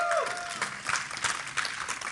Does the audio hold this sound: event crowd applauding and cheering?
yes